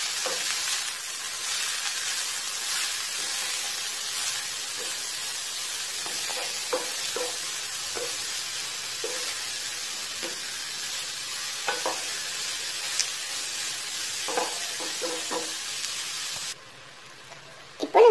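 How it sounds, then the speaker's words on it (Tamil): Manathakkali greens sautéing in oil, a continuous soft sizzle with scattered stirring scrapes and clicks throughout, close and steady. "எண்ணெயிலே ஒரு ரெண்டு நிமிஷம் அப்படியே வதக்கிட்டு"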